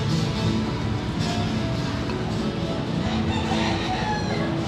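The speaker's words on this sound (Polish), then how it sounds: "Słyszałeś? Znowu zapiał kogut." A rooster crows at a distance in Key West, Florida, over a steady background hum and light patter of summer rain, with faint clucking mixed in.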